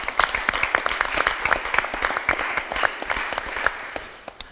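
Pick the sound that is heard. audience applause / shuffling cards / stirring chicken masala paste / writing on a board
audience applause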